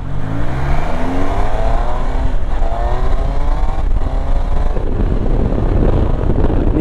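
A Triumph Tiger Sport 800 motorcycle accelerates hard, its engine revs climbing in rising sweeps broken by quick quickshifter gear changes, loud and close with wind rush throughout.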